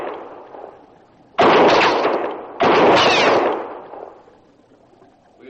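Two loud, sharp gunshot blasts ring out in a radio drama, each with a long decaying tail, separated by about a second over a quiet background.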